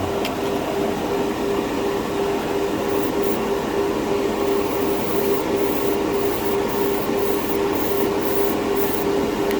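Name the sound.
spraying bright red enamel paint in a spray booth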